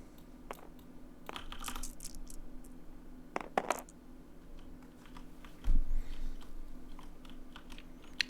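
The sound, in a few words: dice being rolled in SW: Destiny card game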